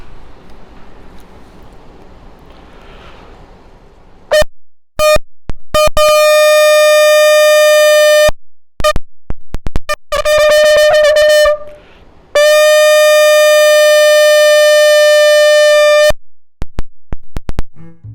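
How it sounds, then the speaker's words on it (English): Shofar blown for Rosh Hashanah, loud and close: a short opening note, several brief staccato blasts, then long sustained tones, the final one held several seconds. "Now I'm going to blow shofar."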